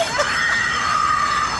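Shrill, sustained screaming from someone during a motel flood carries on without a break for under two seconds. It is fairly loud against a noisy background.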